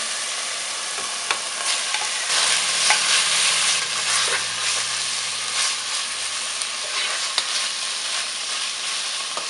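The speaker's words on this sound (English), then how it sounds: "our pork has been cooking for about 2-3 minutes now" Pork belly sizzles and fries in a pot for Cambodian somlor korko, with a steady crackling hiss and repeated stirring scrapes throughout, close and fairly loud with no talk.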